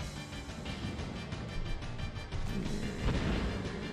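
Video game explosions as a ship sinks, a continuous barrage of booming, crackling blasts rolling one into the next at steady loudness, with no talking.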